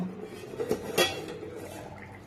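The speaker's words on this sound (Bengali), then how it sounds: "এবার আমি ঢাকাটা খুলব" A metal lid comes off a cooking pan where a paneer dish is simmering, giving two quick, close clinks and a clatter against quiet kitchen background.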